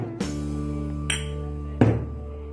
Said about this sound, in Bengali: তো এখন আমি একটু ঝাঁকিয়ে দিচ্ছি যাতে করে কোনো বাবলস না থাকে।